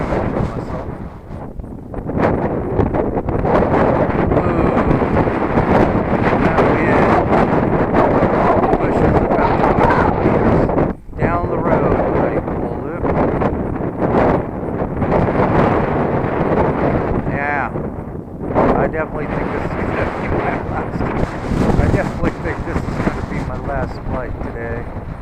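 Strong, gusty wind roars and buffets across the microphone outdoors during a mini P47 model plane flight in high winds, loud and continuous with a few brief lulls.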